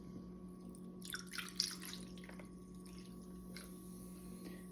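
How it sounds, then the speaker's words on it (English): Topo Chico sparkling water pours into a glass of mezcal, a soft trickling splash with brief fizzing bursts, quiet and close, over a low steady hum. "just add some of this Topo Chico to it."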